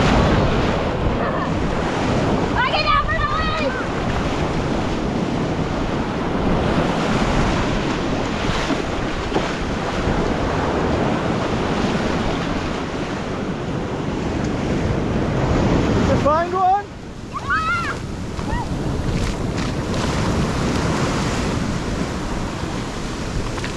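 Ocean waves roll and break steadily on Panama City Beach, a loud continuous surf wash with wind buffeting the microphone, and two brief bursts of a voice rising above it.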